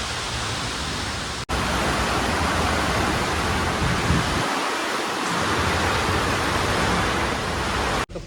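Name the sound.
rain falling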